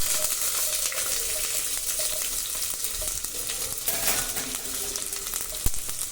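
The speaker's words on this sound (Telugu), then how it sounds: "So will add onions." Sliced onions sizzle and fry steadily in hot oil with crackled cumin seeds in a pan for a paneer capsicum fry, a continuous dense hiss with occasional stirring clinks, no talk.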